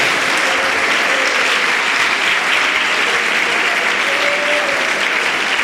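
Loud, sustained applause from a church congregation during a Sunday school service, dense steady clapping filling the room without pause.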